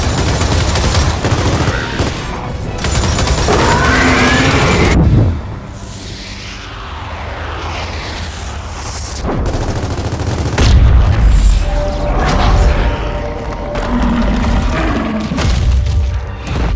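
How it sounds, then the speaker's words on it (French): Heavy gunfire and explosive booms from the video game Gears of War 4 fill a battle scene, with dense sustained bursts, a short quieter lull, then renewed loud firing and rumbling blasts. "On va pas pouvoir les retenir plus longtemps! Continuez de tirer."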